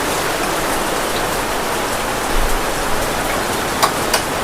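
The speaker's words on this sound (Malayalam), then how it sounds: "നല്ല മഴ" Heavy rain falls steadily at a home in Kerala, a dense continuous hiss of drops with a few louder splashes and drips standing out near the end, no talk.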